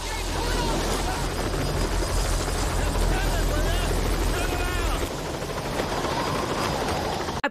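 Steady helicopter rotor drone from a Jurassic Park film scene, with broadband roar, loud and continuous, while voices talk over it; the noise drops briefly near the end.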